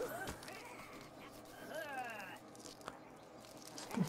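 A dog attacks in the video game Craft The World, with short yips, whimpers and growling bites mixed into game effects under someone speaking.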